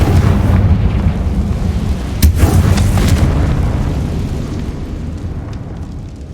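A Confringo fire spell blast in Hogwarts Legacy booms loudly with a deep rumbling roar, a sharp crackle partway through, then a long fading rumble.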